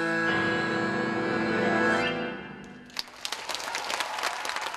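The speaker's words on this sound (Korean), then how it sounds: "마지막 곡까지 모두 연주가 끝나자 관객들의 박수 갈채가 쏟아진다." An audience bursts into applause after the final piece at a tango festival concert in Korea. The clapping rises as the last sustained instrumental notes fade, then continues as a dense, even patter.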